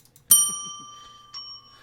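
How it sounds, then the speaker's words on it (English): A software bell rings on a computer: one loud, bright strike that rings out, then a second softer ding about a second later, alone without talk. "Well, I have a virtual bell."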